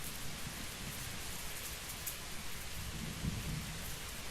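A thunderstorm in the medieval video game Kingdom Come: Deliverance: steady, dense rain hiss with a low rolling rumble of thunder beneath, continuous and with no voices.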